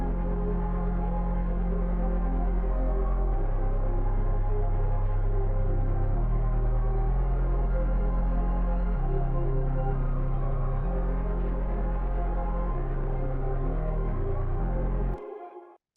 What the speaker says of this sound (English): Got two ARPs with the bass,